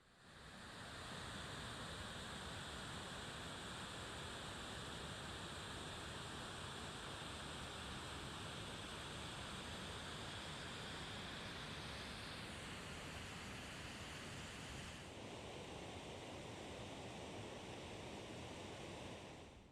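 A steady, roaring rush of falling water from a natural waterfall near Mount Marcy fills the scene, broad and constant throughout, with a slight shift in tone near the end.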